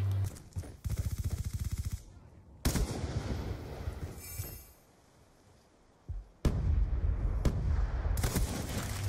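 Rapid automatic gunfire in the Black Ops 2 video game comes in loud bursts. Short gaps and quieter stretches separate them, and a heavy final volley keeps going to the end.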